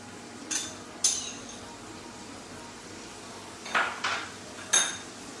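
A metal pan clatters and a utensil clinks against it in a few sharp, spaced knocks while garlic cooks in Amul butter, with quiet background between the hits and no talk.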